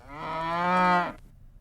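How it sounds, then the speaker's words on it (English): A single cow gives a long, clear moo lasting about a second, close and alone with no voices around it. "And then there's my pet cow, Bessie, of course."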